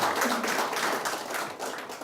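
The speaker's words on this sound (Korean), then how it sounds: "박수 한번 치시죠." A short burst of applause from an audience at a Korean lecture meeting, dense overlapping claps filling about two seconds at a fairly even level.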